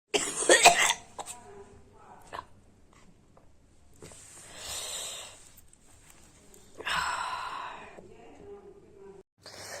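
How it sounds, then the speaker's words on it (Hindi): A sharp burst of human coughing opens the clip, followed by quieter breathy sounds and a couple of softer exhalations amid near silence. "तो अभी मुझे थोड़ी सी खांसी वगैरह आने लगी थी"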